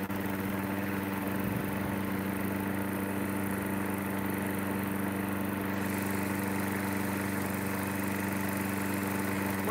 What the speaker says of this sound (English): Motor sounds pretty good.